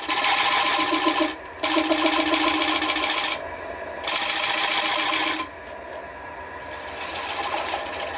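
Wood lathe tool undercutting the back of a laminated-board picture frame, loud steady rasping cuts in three long passes separated by brief pauses, then a quieter spinning whir at the end.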